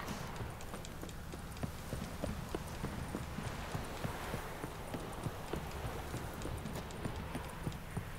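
Roach, the horse in The Witcher 3 video game, gallops with a steady, rhythmic run of hoofbeats that carries on evenly at moderate loudness from start to finish.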